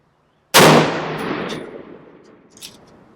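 A single loud, close gunshot from an unsuppressed firearm, a sharp crack followed by a long ringing decay that fades over a few seconds, with no voices.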